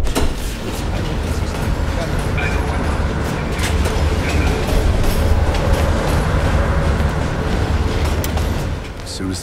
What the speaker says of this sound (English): The train slows down.